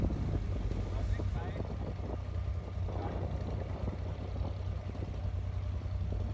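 An abra ride across Dubai Creek, a one-dirham boat crossing, produces a steady low engine drone with water wash and gusty wind buffeting the microphone, continuous throughout.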